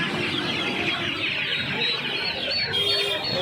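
A dense crowd of chickens and chicks clucks and chatters continuously, filling a busy, noisy market space.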